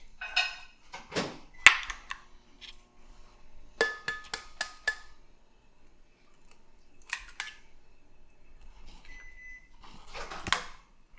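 Eggs are cracked one after another into a bowl for crepe batter, giving sharp, sparse taps and shell cracks close to the mic, with quiet gaps between and no talk.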